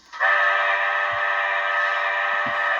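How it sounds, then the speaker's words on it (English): A steady, continuous whistle from an HO scale Canadian Pacific Royal Hudson model steam locomotive sounds for nearly three seconds, bright and reedy, with a couple of faint low thumps beneath. "It's a really nice whistle."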